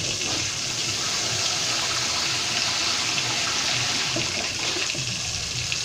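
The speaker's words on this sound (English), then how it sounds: "we need to add water now inside of it" Water pouring steadily into a thickening pepper mixture for karhee, a loud, continuous rushing splash that holds unbroken from start to end.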